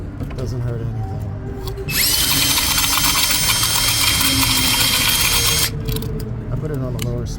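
A power drill on its lower speed setting cleans the intake valves of a gasoline direct-injection engine. It gives a loud, steady whir for several seconds, with talk before and after it.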